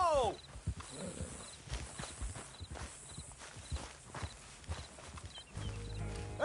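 Hooves clip-clop steadily on the ground in a PlayStation 4 video game, a running horse's rhythmic footfalls mixed with character voices and game sound.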